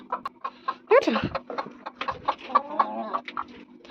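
A flock of farmyard hens clucks close by in a series of short, uneven calls, with talking now and then over them.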